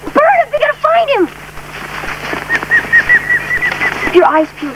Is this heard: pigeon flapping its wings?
yes